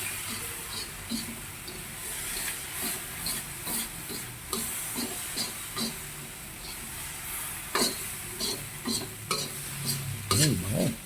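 Red rice being stirred in a butter-greased pan, a spoon scraping and clinking in repeated strokes over a steady low sizzle, close and moderately loud.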